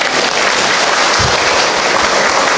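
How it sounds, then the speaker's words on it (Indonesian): Loud, close audience applause during an Islamic sermon, dense steady clapping filling the short stretch. "Tepuk tangan atuh."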